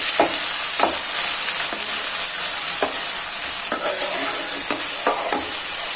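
Chopped tomatoes, green chillies and garlic sauté in a hot pan, giving a bright continuous sizzle while a spatula scrapes and taps through them every second or so.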